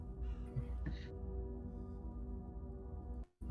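A bird gives a couple of short, crow-like caws over a steady low hum, one near the start and another about a second in, with no talk.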